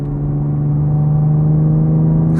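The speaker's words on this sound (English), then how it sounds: "You can hear the turbos already." A BMW F80 M3 CS with an equal-length aftermarket exhaust holds a steady, loud droning tone with a high turbo whine layered over the engine rumble, rising slightly in intensity toward the end.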